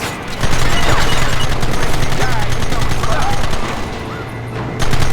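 Rapid gunfire from a Red Dead Redemption video game shootout sounds as loud continuous bursts, with game music and voices underneath.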